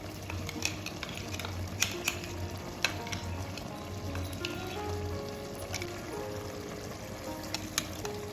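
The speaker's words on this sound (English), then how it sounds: "Now add ground masala paste" Ground masala paste for chicken chettinadu frying and being stirred in a pan, with a steady low sizzle and occasional clinks of a utensil against the pot throughout.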